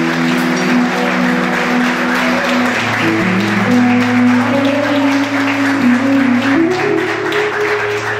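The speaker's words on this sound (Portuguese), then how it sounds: "Aplauda o Senhor Jesus, adore Ele," Congregation clapping in a church service, a steady loud wash of applause filling the room, with sustained tonal music or sung notes running underneath throughout.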